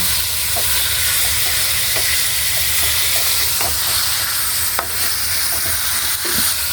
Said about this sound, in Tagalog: Haluin na po natin